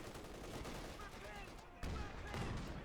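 Rapid machine gun fire from a .50 cal in Company of Heroes 2, a dense rattling burst that runs continuously under busy battle noise and grows heavier in the final second.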